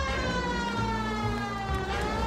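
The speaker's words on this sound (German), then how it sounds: "Sirene an." A 1940s-style police car siren from the video game L.A. Noire wails loudly and continuously, a steady rising and falling tone held throughout without voices.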